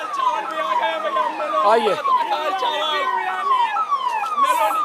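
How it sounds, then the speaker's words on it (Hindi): An ambulance siren wails loudly and passes close by on a busy street outside the Prime Minister's residence during a protest, its repeated rising and falling tones running under a brief spoken word. "इसको जाने दो, एम्बुलेंस को जाने दो जरा, एम्बुलेंस को जाने दीजिए"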